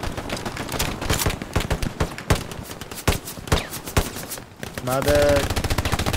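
Rapid gunfire in the World War II shooter Hell Let Loose crackles in quick, uneven bursts, with a brief lull before a denser rattle; a voice speaks briefly over it.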